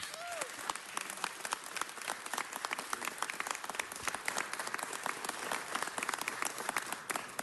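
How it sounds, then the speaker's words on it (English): A crowd applauds steadily at a city council meeting, dense clapping sustained throughout at a moderate level, heard from within the room. "So let's give Captain Davis Let's give her a round of applause"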